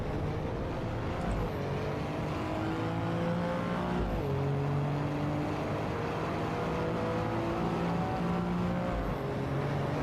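Road car with a race interior driven in the racing game Assetto Corsa Evo, its engine droning steadily at high revs with shifting tones as it accelerates, loud and continuous from the cockpit.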